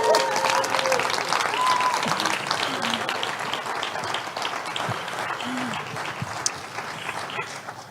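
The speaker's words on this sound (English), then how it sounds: "One more round of applause." Sustained audience applause fills a TEDx talk hall after a dance-and-movement session, dense clapping continuing steadily and fading slightly toward the end, with a few scattered voices and whoops mixed in.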